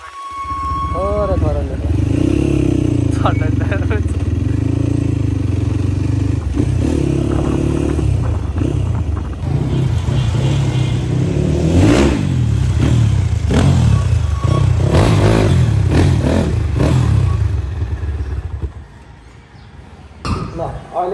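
A motorbike engine rumbles steadily throughout, with clattering and road noise up close, and people talking over it before it fades near the end.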